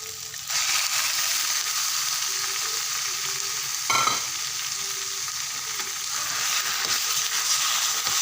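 Wild boar meat from Tha Song Yang, Tak, is dropped into a pan of fragrant curry paste and fries with a steady broadband sizzle, with a brief louder splash near the middle and no talk.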